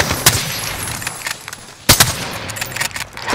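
Gunfire in a Call of Duty match on the Rebirth map, sharp close shots and short bursts punctuating the mix, with one especially loud crack partway through.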